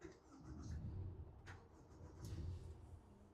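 Outboard motor on a Stabicraft 2250 Ultra Cab aluminium boat starting up: a low, steady engine rumble settling into idle, faint and continuous with a couple of brief clicks.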